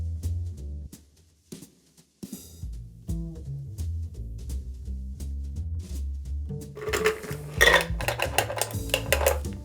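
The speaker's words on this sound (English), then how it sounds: "we are going to fine strain this just to get out the little chunks of ice" A Jameson cold brew cocktail is fine strained to catch small ice chunks, with close clinking of ice and metal and a pouring trickle, growing busier and louder toward the end, with faint background music and no talk.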